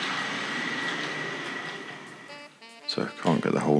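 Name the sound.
Hornby Class N15 model locomotive running on track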